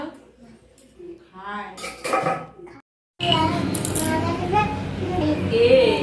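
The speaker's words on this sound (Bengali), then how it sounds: "আমি মৌরি গুঁড়ো করছি" Fennel seeds being ground in a home kitchen, a steady dense clatter of grinding that starts abruptly after a pause, with earlier stretches of people talking.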